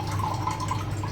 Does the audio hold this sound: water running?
yes